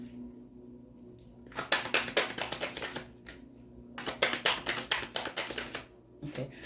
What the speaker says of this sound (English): I'm going to shuffle one more time for Sagittarius here